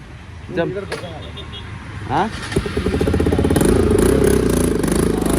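A motorbike engine revs and pulls away outdoors, the rough mid-pitched drone building louder after a few clattering bumps, with a voice talking over the start.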